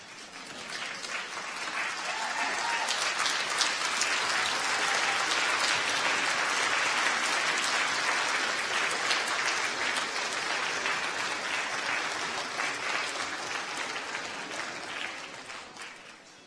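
A large audience in a hall at a university graduation ceremony applauds steadily for a long stretch, dense clapping that swells and holds before tapering at the end.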